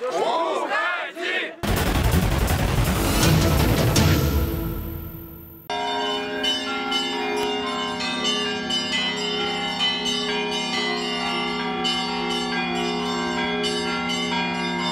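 Church bells ring out steadily and loudly with many overlapping tones in Ulyanovsk, Russia, welcoming a new metropolitan, following a burst of noisy crowd commotion at the start.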